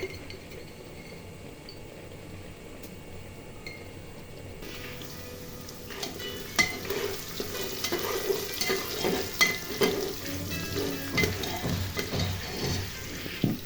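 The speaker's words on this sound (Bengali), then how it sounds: "তারপর তাতে ২টি তেজপাতা, ২ টেবিল চামচ লবণ দিয়ে ভালো করে নেড়ে চেড়ে মিক্স করে নিচ্ছি।" Beef stew with two bay leaves and salt being stirred in a pot, a quiet stretch giving way to steady scraping and clinking strokes over a low sizzle, fairly close, with no talk.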